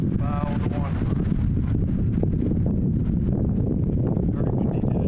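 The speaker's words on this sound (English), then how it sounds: "Very windy day." Strong wind buffets the bow of a 1963 H. De Hass 78 trawler in Gloucester, Massachusetts, a heavy constant low roar filling the clip, with a brief voice early on.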